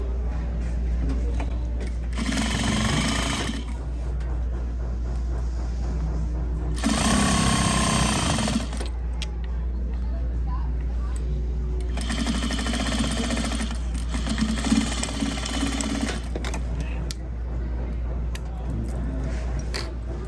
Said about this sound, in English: So now I am sewing from the sleeve cuff all the way to the bottom hem.